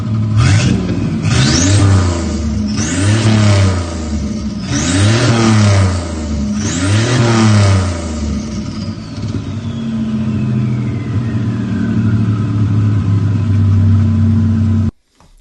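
A turbocharged Volvo engine revs hard through a loud exhaust in five rising bursts, then settles into a steady rumbling idle before cutting off.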